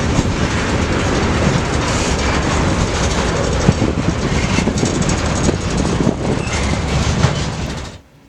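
A freight train rolls past close by in Galesburg, Illinois, a loud continuous roar of wheels and rattling cars with steady clickety-clack, cutting off sharply at the end.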